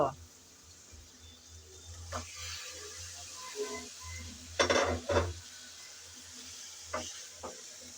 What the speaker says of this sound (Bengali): মাংস দিয়ে আমি ভালো করে নেড়ে চেড়ে কষিয়ে নেব